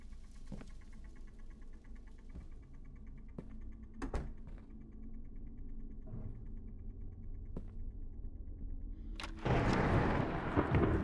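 Thunderstorm in the horror game Madison: a low steady rumble with scattered sharp cracks, then a sudden loud burst of hissing noise near the end.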